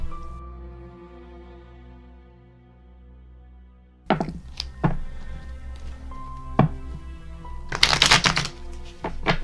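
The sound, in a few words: shuffling tarot cards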